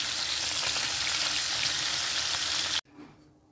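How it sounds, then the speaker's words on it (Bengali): Loud, steady sizzling of fish frying in hot oil fills most of the clip, then cuts off abruptly to a quieter hiss. "মাছটা দিয়ে দিলাম ভাজা"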